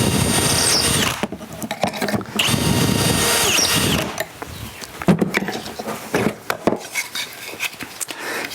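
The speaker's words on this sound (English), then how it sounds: "drill's going to break out on this side, and that's not a good look" A power drill bores holes in wood for a mitered cabinet door, its motor whining loudly in two sustained runs, then stopping to leave scattered knocks and clatter of handled parts nearby.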